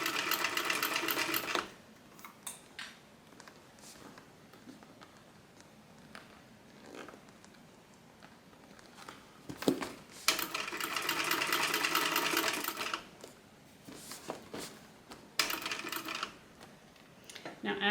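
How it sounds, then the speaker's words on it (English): Cylinder arm sewing machine stitching a tote bag, running in loud steady bursts that stop and restart several times, with quieter pauses between runs. "we're going to go over to my cylinder arm machine and we are going to stitch this up"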